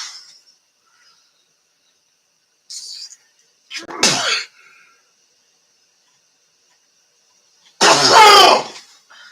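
Two sharp sneezes, close and loud, a few seconds apart, with a small breathy sound before the first and quiet in between.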